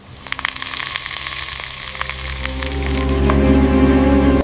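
Curry leaves hitting hot coconut oil over South Indian aviyal, a loud, steady sizzle that swells and crackles more strongly toward the end, with no voices.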